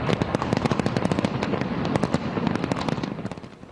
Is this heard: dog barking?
no